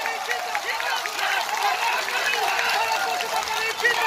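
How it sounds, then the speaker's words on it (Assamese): Hands clapping from a crowd at an outdoor political rally, a steady wash of applause blended with crowd babble throughout. "জোৰে হাত চাপৰি এটা বজাওক।"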